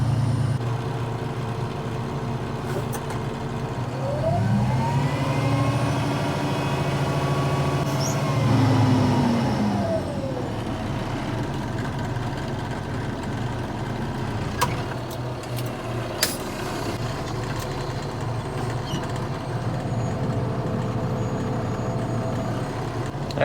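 A heavy truck reverses up onto a pushed-off dirt pile at an excavation site, its engine droning steadily with rising and falling revving and a whine, then a couple of sharp knocks near the end.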